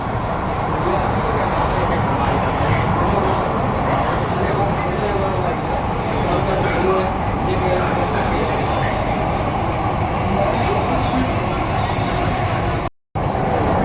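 Mumbai underground metro train running at speed, a loud continuous rumble and roar inside the carriage with no letup, people talking beneath the noise.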